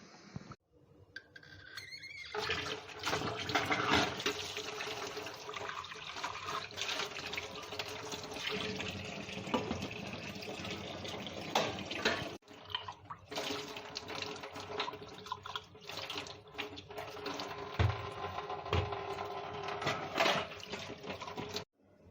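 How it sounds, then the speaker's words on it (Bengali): Tap water runs steadily into a sink while dishes are washed by hand, a continuous close splashing stream with small clinks and shifts, briefly pausing midway before flowing on. "বাসন মাজা কমপ্লিট।"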